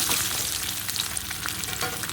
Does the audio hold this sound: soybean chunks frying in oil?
yes